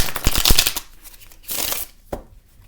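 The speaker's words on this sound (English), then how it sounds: "So I'm going to do one more shuffle," Tarot cards being shuffled by hand, close crisp riffling bursts in two main runs followed by a single sharp tap, with quiet gaps between and no talking.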